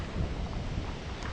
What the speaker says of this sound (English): even though it's a little windy